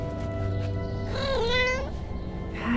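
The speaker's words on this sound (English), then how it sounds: "they've got space cats" Cats meowing in the Ahsoka series, a drawn-out, rising and falling meow in the middle and a shorter one at the end, heard over a steady musical and ambient background with no talking.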